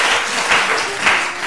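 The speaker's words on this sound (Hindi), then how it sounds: "बहुत सारी तालियां" An audience at a studio show claps in a burst of steady, fairly close applause lasting a couple of seconds.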